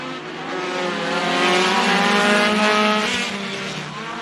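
Race cars roar together around Bakersfield Speedway at a green-flag restart, a loud, steady blend of engines rising and holding close by, with no talk over it.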